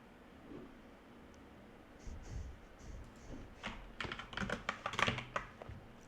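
Computer keyboard typing, a short burst of quick key taps that grows denser toward the end, close and moderately loud over a quiet background hiss.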